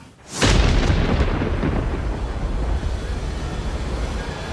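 A storm at sea with thunder, opening with a sudden loud boom that settles into a heavy, sustained roar of wind and surf, close and continuous with no talk.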